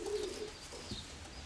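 A pigeon coos softly a couple of times, low and breathy, against a steady background hiss.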